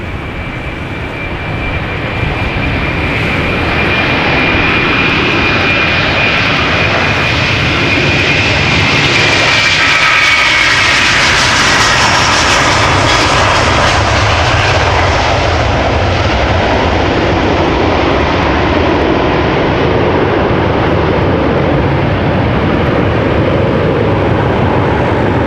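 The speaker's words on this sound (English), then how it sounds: "Delta Airlines Flight 47 to New York, JFK coming up, A330-300" A 17-year-old Delta Air Lines Airbus A330-300 departs Amsterdam Schiphol for New York JFK, its jet engines building from a rising roar to a loud sustained thunder up close, with a passing whine sweeping through.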